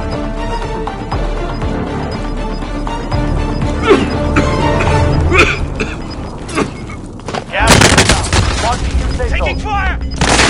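Bursts of video game gunfire in a tactical shooter rattle out in clusters, with a dense, loud barrage late on, mixed over busy game sound effects and a voice.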